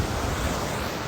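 Ocean waves wash onto a beach during a loggerhead turtle hatchling release, a loud, steady broadband rush of surf with wind, no voices.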